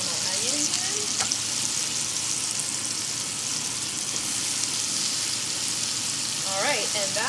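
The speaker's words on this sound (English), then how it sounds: "now I have some butter and some olive oil, and I am going to fry onions." Onions frying in butter and olive oil with a little garlic in a pan, a steady close sizzle and crackle throughout, with brief stirring scrapes.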